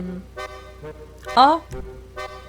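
A musical horn on a newly bought sports car in GTA 5 Online sounds a short run of tonal bursts, with a brief rising toot in the middle, while a voice speaks over it.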